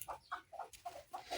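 Laying hens on a small farm clucking in a steady series of short, close calls, several soft bursts in a row with no talking.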